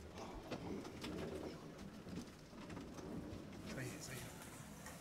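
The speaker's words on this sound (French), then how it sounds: "Pigeon." Pigeons coo in the southwest French countryside, soft repeated coos under steady rain-like noise and rustling, with people speaking quietly nearby.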